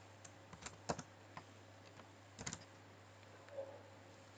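Faint, sparse keystrokes on a computer keyboard while typing a short phrase, a few isolated clicks and small clusters over a low steady hum.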